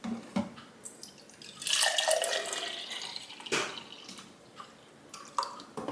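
Stoke cold brew coffee poured into a cup, a splashing liquid stream running about two seconds mid-clip amid faint drips and small clinks, close and moderately quiet with no talking.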